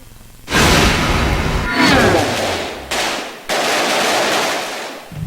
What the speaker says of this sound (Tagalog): Umalingaw-ngaw ang mga putok ng semi-automatic rifle sa ikalawang araw ng bakbakan sa Zamboanga City